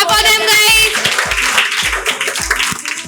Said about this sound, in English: Clap for them guys!